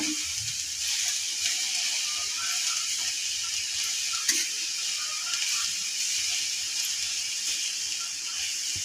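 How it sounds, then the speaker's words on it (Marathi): Food sizzles steadily on a hot griddle, a constant hiss close by with a brief sharper crackle midway. "मी भाजी आता तव्यावर घातले"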